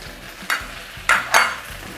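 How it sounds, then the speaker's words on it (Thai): Wide rice noodles for pad see ew stir-fried in a hot wok, with a few short scraping stirs and a faint sizzle underneath, close and fairly quiet. "ดี๋ยวเราผัดเส้นใหญ่ก่อนค่ะ"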